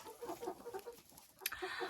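An Araucana-cross hen clucks in a quick run of soft, repeated notes close by, followed by a brief higher squawk and more clucking.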